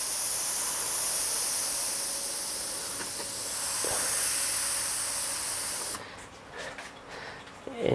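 An airbrush sprays black paint in a steady high hiss for about six seconds, then cuts off, leaving quiet room sounds and faint clicks.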